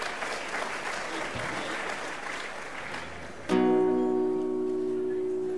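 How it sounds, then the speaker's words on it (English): Audience applause at the Golden Shears 2014 shearing event, a dense sustained clapping crowd for about three and a half seconds before music with steady tones takes over. "Give them a round of applause, everyone"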